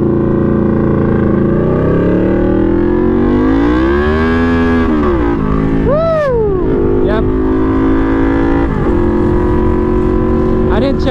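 A Yamaha V-Max muscle cruiser motorcycle engine revs up and down on a test ride, its loud engine note climbing in pitch, falling back and surging again with wind noise throughout.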